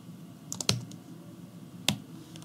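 Two quick bursts of keystrokes on a computer keyboard while entering a sudo command, a short cluster of clicks followed by a single sharp tap a moment later, close and otherwise quiet.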